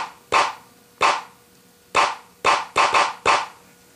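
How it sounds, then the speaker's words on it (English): An MPC 1000 drum machine fires a sharp, snare-like hit from its pads seven times in an uneven rhythm, each strike crisp and bright with a quick decay, played close and alone. "MPC 1000, a drum machine."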